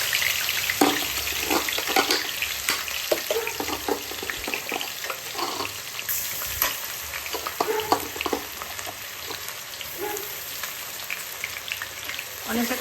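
Onion, green chilli and ginger paste frying in a wok, a steady close sizzle with crackles and scraping stirs running throughout.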